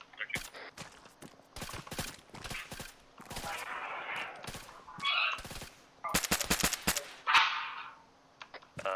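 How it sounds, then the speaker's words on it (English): Video game gunfire crackles in sharp, irregular bursts and single shots, some close and loud, with short gaps between volleys and faint radio chatter underneath. "Find out who's shooting that shit."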